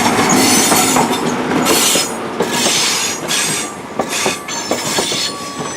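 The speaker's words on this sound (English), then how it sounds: "arriving in now is the Downroad Duchy, which is the 1512 Great Western Railway service from London Paddington to Penzance" A Class 43 passenger train, a London Paddington to Penzance service, rolls into Plymouth station close by, wheels squealing and clattering over the rails in irregular bursts as it slows.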